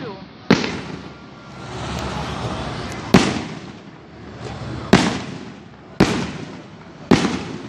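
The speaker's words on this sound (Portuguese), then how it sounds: "Aqui tem um fogos aqui, um barulho." Fireworks burst at night near a church after a Sunday service, with five or six sharp, loud bangs spaced a second or two apart, each trailing into crackling and rumbling echoes.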